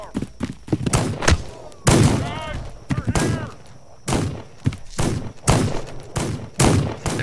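Gunfire aimed at the player character in the video game This Land is My Land: several sharp, loud shots in irregular bursts, mixed with game sounds and someone talking.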